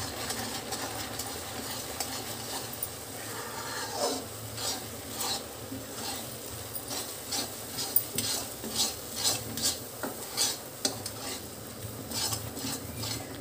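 Crushed rusk being stirred into a thick barfi mixture in a pan, giving steady scraping strokes with a faint sizzle underneath that turn into louder, rhythmic bursts toward the end, close and with no voice.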